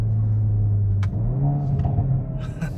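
A 2022 Hyundai i30 N facelift hot hatch engine rumbles loudly and steadily, pitch dropping and rising as it shifts down a gear, with a brief click midway.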